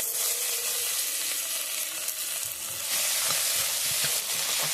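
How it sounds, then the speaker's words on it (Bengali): Onion, green chilli and ginger-garlic paste fry in a pan with a bright, continuous sizzle and light stirring, moderately loud and steady, with no voices. "দিয়ে ভালো করে আমি মশলাটাকে ভেজে নেব"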